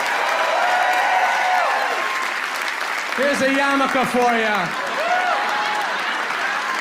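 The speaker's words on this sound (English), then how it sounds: "And a big round of applause for Jamie." Audience applause at a Kabbalat Shabbat gathering for the Beshalaḥ service, steady broadband clapping running throughout, with someone speaking over it in the middle.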